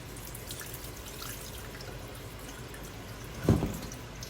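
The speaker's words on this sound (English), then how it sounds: "So we're going to dump all the liquid out." Brine drained from salted cucumbers trickles and drips faintly in a kitchen, with one short, louder splash near the end.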